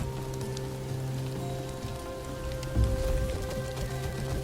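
Steady rainfall in the survival video game Soulmask, a continuous hiss of drops on surfaces with a low constant background tone and a slight swell near the end, no voices.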